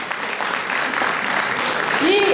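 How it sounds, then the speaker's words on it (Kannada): Audience applause at a Deepawali prize distribution, a steady wash of clapping throughout, with a brief whistle-like rising tone near the end. "ಇನ್ನೊಮ್ಮೆ ಜೋರಾಗಿ ಚಪ್ಪಾಳೆ."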